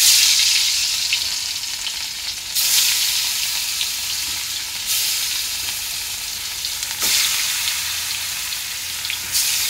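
Oil sizzles and fries steadily in a hot pan during home lunch cooking, a continuous crackling hiss that swells in louder bursts every couple of seconds, close and with no talking.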